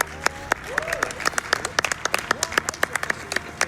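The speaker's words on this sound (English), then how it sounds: "A round of applause to each and every one of you." Audience applause breaks out at a live speedrun charity marathon event, a lively burst of many hands clapping close and steady for a few seconds, with a voice briefly over it.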